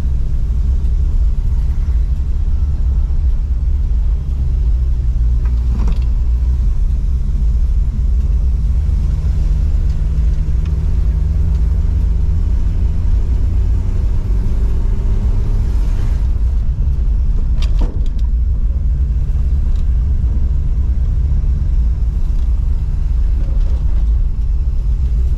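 A Pontiac LeMans runs with a loud, steady low engine rumble while driving, a deep continuous drone with slight rises in pitch as it gains speed, close up and with no talking.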